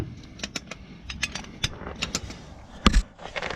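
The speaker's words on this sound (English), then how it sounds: "we'll use the electric ratchet" An electric ratchet loosens a rear shock bolt on a Ford Expedition, giving a run of rapid mechanical clicks and short whirring bursts, fairly close, with a louder clack near the end.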